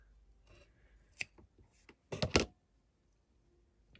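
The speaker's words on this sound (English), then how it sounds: "I'll cut these pieces off." Scissors snip pieces off paper or an envelope in a quiet room: a few faint, crisp cuts, including a quick cluster of snips, separated by soft handling rustle.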